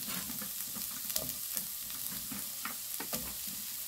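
Onion is stir-fried in a pan of vegetables being cooked for Korean spicy squid, giving a continuous soft sizzle with scattered crackles and stirring scrapes, fairly quiet and close, with no talking.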